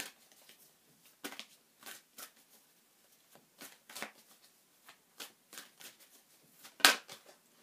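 A spiritual Oracle card deck being shuffled, with a series of soft, papery riffles and flicks spread across the clip and one sharper, louder snap near the end; quiet and close, with no one talking.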